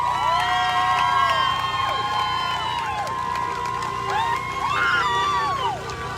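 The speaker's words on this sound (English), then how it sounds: "so give her a round of applause" At a protest rally against racism, an outdoor crowd cheers with loud whoops and shrill whistles that rise and fall over a steady murmur of voices.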